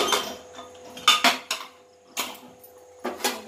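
Boiled elephant foot yam pieces scooped out of a pressure cooker into a bowl, heard as sharp metallic clinks and scrapes in short clustered bursts, close and fairly loud, with quiet gaps between.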